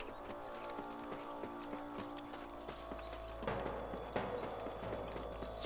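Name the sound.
horses galloping in the video game Red Dead Redemption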